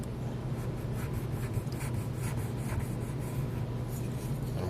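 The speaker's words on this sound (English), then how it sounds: "I've started burnishing the impression into the tin with this wooden stick" A wooden stick rubs and burnishes an impression into thin tin roofing sheet for an O-scale model, giving a steady, quiet scraping hiss with faint rhythmic strokes over a low background hum.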